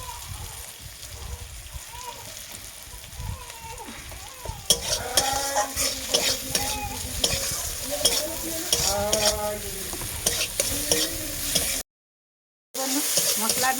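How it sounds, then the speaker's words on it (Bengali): Potato, fig and tomato curry sizzling in a pan, loud and close, with busy stirring scrapes and spatula clinks that grow more intense partway through and break off briefly near the end. "একটু ভালোভাবে নাড়াচাড়া করে নেব"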